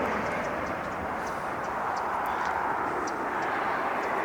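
A heavy jet takes off at LAX airport, a steady broad engine roar that holds loud and even throughout, heard from a distance.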